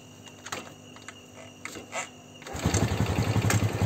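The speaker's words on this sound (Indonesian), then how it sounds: "kontak tetap on, kita starter ya" Faint clicks and ticks come first, then a motorcycle with a battery that drains easily starts on its electric starter and settles into a loud, fast, pulsing idle.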